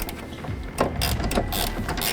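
A 3/4 inch socket on a ratchet tightens the rear strap of a 47 gallon replacement fuel tank on a Mercedes Sprinter, with quick repeated clicking strokes close by and no talk.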